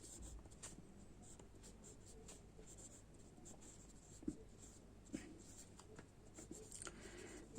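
A pen or pencil scratches quietly across paper while a rough geometry figure is sketched, a soft, continuous rasping with a few small taps in a quiet room.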